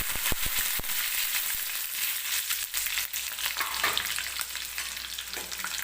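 Garlic and curry leaves hit hot oil already crackling with cumin seeds, opening with a few sharp pops and clicks, then settling into a loud, continuous sizzle up close.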